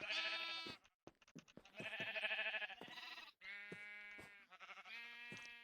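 Minecraft sheep bleat repeatedly in short, wavering calls, several in quick succession with brief gaps, fairly loud and close with no talking.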